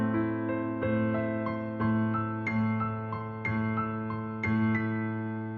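Piano played with both hands: steady low bass notes under a repeating higher melody, evenly paced chords, moderately soft, no voices.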